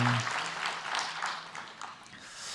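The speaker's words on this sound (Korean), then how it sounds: "우리 다시 한번 박수합니다" A church congregation applauds together in a sanctuary: a steady, fairly full wash of many hands clapping that swells and eases slightly across the few seconds, with a brief low voice at the very start.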